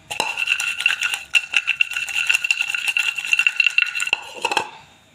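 Cutlery clinks and scrapes against a bowl as fried chaat puri is tossed with chaat masala and a pinch of salt, a busy rattling stir running steadily for about four seconds before stopping.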